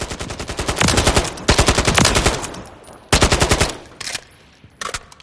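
AK-107 rifle firing 5.45x39 rounds in Call of Duty Modern Warfare III, loud rapid automatic bursts with short pauses between, heard clearly on its own with no talking.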